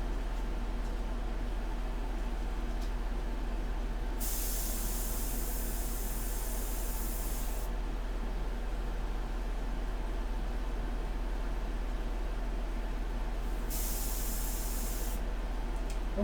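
An airbrush spraying India ink while painting a portrait gives a steady, faint hiss throughout, with two louder bursts of brighter spray sound, and no talking.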